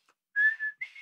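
A man whistles a short, cheerful tune of two clear notes, close and bright, imitating a bricklayer who whistles while he works.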